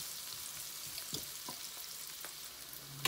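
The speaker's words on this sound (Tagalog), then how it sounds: "Sa isang mainit na kawali, ilagay natin ang sibuyas. At pagkatapos, haluin lang natin ito ng bahagya at hayaang maluto." Onions sautéing in a hot pan give a steady, soft sizzle and frying hiss, with a few brief stirring clatters and a sharper knock near the end, close-up and alone without voices.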